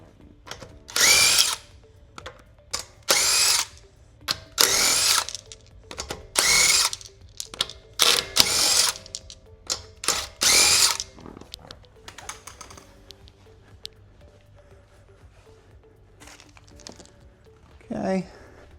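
Power drill spinning out lug bolts from a Cybertruck wheel in a series of about nine loud, short whirring bursts separated by brief pauses, followed by quieter handling clatter.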